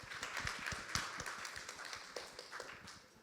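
Applause from a panel audience at an inclusive transport conference in Africa, scattered and fairly thin, with distinct separate claps at a moderate distance and no voices.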